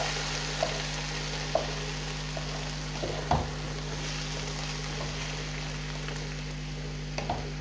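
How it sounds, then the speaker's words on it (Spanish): Chopped tomatoes go into a pan where cauliflower is frying, giving a low steady sizzle under a constant hum, with a few scattered clinks and knocks from stirring. "ya que está arreglado un poquito también la coliflor, echamos los tomates, cortados en trocitos"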